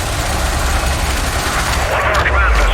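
Ship weapons firing in the space combat game Elite: Dangerous, a steady dense rumble of repeated shots running through the whole stretch with some brighter bursts near the end.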